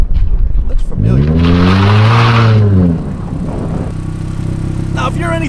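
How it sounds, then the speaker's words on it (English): The four-cylinder engine of a 2008 Thoroughbred Stallion motorcycle trike revs up and back down in one loud swell, then settles into a steady, rumbling idle nearby. "this one does have its own unique little four-cylinder sound"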